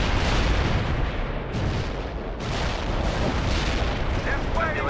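Artillery fire in the video game World in Conflict, a string of heavy booming blasts and rumbling explosions rolling over one another, loud and dense with a few sharper cracks near the end.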